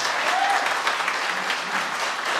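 A church congregation gives a steady, dense round of applause that holds evenly across the whole moment, with no other sounds standing out.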